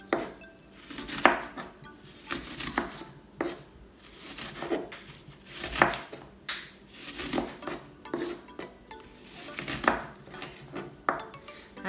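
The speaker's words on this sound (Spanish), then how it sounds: "hasta que cortemos toda la cebolla" A knife chops an onion into small cubes on a cutting board while rajas de chile poblano are prepared, giving close, rhythmic, crisp chopping strikes in quick bursts with no talking.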